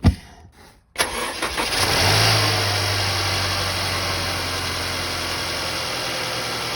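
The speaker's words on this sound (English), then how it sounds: "let's do a quick cold start and I'll show you how mine sounds." A Mercedes-Benz engine cold-starts after a second of near silence, cranking briefly before catching and settling into a steady, loud idle with a low hum and a constant broadband rush.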